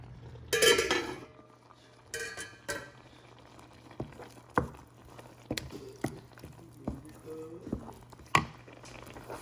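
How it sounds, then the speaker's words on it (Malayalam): A lid set down on a pot of simmering green mango curry, with scattered metallic clinks and knocks of cookware against a steady low hum, no talk. "ഇതൊന്ന് വേകട്ടെ, നമുക്കൊന്ന് മൂടി വെക്കാം."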